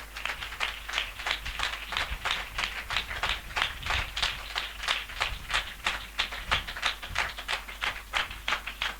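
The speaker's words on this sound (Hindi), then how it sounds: "हम जोरदार ताली से उनका स्वागत करें।" Sustained loud applause from a church congregation at a spiritual assembly, steady rapid clapping from many hands filling the room with no voices over it.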